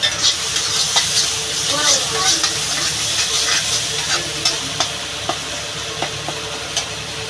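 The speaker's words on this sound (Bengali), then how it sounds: "আমি এবার ছোলাটা ঢেলে দেবো" Chickpeas go into a pan of cooked-down spice masala with released oil and are stirred, making a loud bubbling sizzle with repeated spatula knocks and scraping, close up.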